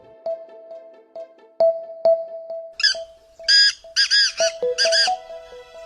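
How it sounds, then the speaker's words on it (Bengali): A cartoon bird in a children's animation squawks in several loud, raspy bursts near the end, after a run of short, sparse clicks and tones. "পাখি কি বলছে বলো না।"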